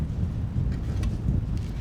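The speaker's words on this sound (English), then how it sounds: "wind has picked up considerably" Strong gusting wind buffets the microphone at an outdoor rifle range, a loud low rumbling roar with uneven surges and no talk.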